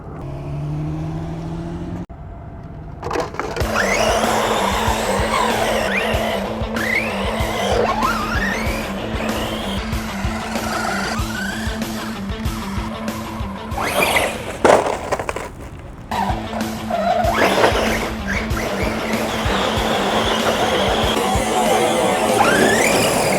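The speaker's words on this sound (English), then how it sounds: "It's a 1/10 scale RC car and we're gonna rip this around." An Arrma Big Rock 1/10 scale RC car rips around outdoors, its electric motor whining up and down in repeated bursts with tire scrabble and skids, loud and close for most of the run after a quiet start.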